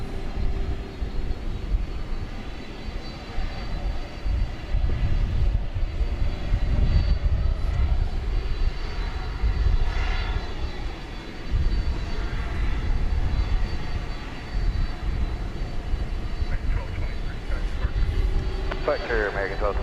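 Airliner engines roaring at DFW Airport, a loud sustained jet rumble that swells and fades as the plane moves along the runway, heard fairly close under outdoor ambience.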